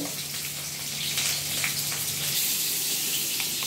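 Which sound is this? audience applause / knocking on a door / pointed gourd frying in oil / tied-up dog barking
pointed gourd frying in oil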